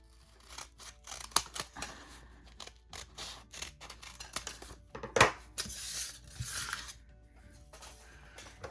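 Scissors snipping a small square out of the top corner of paper for a paper flower craft, a run of crisp close clicks and cuts in uneven rhythm with brief pauses between.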